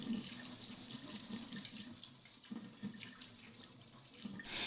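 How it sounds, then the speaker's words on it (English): Tap water runs steadily over buckwheat and quinoa being rinsed in a kitchen sink, a continuous close splashing hiss with small shifts as the grains are stirred, no voices. "rinse the buckwheat and quinoa under running water"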